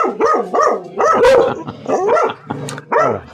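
A dog barks repeatedly at close range, loud rhythmic barks with whiny, yelping edges, about six or seven in quick succession.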